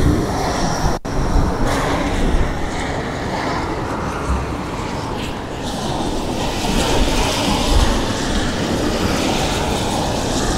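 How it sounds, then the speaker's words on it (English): A Blackpool tram running along the south end of the seafront on a gloomy winter day, a loud continuous rumbling drone with wind-like roar, close and steady for the whole stretch, no talk. "Tram's all running."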